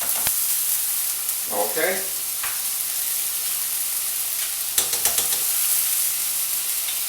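Garlic and half-cooked onions fry in a pan with a steady, loud sizzle while a spoon stirs them, giving a few scraping clinks; a voice speaks briefly over the hiss.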